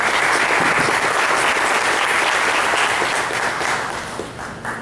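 A conference audience applauds at the end of a talk, dense and loud, a steady wash of many hands that holds for about four seconds and then thins out.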